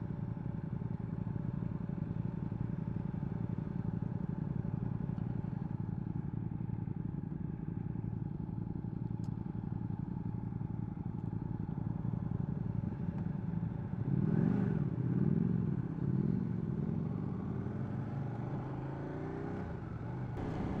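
Ducati 959 Panigale sport bike being ridden on a group test ride, its engine droning steadily and continuously up close, with a brief swell of revving near the end.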